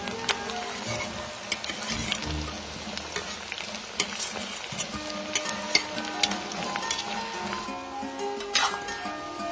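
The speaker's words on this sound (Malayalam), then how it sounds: "നല്ലപോലെ മൂക്കുന്നത് നമുക്കൊന്ന് വഴറ്റിയെടുക്കാം" Garlic, ginger and green chilli sautéing in oil for a sardine pickle, giving a continuous crackling sizzle with frequent stirring scrapes and taps, heard up close with no talking.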